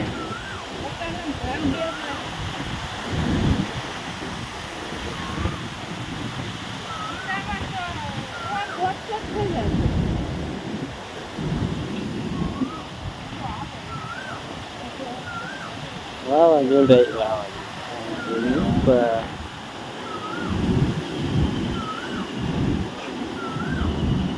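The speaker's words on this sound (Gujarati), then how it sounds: "પવન ફૂલ આવે છે" Gusty storm wind in a village near Botad, Gujarat, roars and rushes in waves, loud and close, with someone talking over it.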